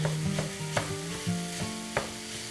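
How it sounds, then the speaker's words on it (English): Ground lamb sizzling with softened onions in a pan for kibbeh bil sanieh, with steady close frying noise and a few sharp spoon scrapes and knocks as the meat is broken up. "So as soon as my onions are nice and soft, I'm going to add the meat. And I just break it up with a spoon."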